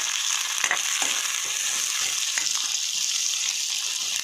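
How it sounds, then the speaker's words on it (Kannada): Onions and garlic frying in a pan for chicken green masala, a steady close sizzle with a watery crackle and soft scraping stir strokes scattered throughout, no voices. "ನೀರುಳ್ಳಿ ಪಾರ್ದ ಮತ್ತೆ ಬೆಳ್ಳುಳ್ಳಿ ಎಲ್ಲ ನೆಕ್ಕೆ ಪಾಡ್ಬೇಕು. ತುಲೆ ಪಾಡ್ದಿತ್ತೆ ಫ್ರೈ ಮಲ್ತಿಗೆ"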